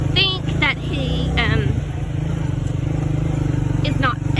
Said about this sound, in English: I gotta get out of the way because here comes the tractor